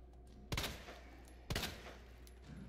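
Two sharp, booming gunshots ring out in the video game Resident Evil 2, about a second apart, each with a short decaying tail over a low ambient drone.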